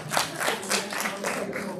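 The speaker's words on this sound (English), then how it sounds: "So we clap when the time's up." Audience clapping at a Boston city council at-large candidate forum to signal that time is up, a brief burst of several separate hand claps in an uneven rhythm, moderately close, with voices faint underneath.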